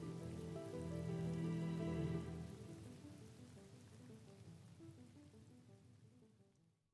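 Rain falling as a soft, dense hiss of drops that swells early on, then thins and fades out, faint and with no voices.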